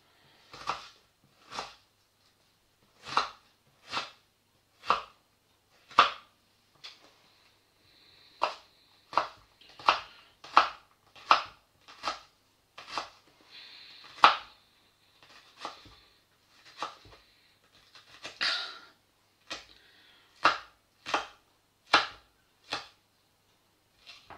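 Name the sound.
chopping shallots with a knife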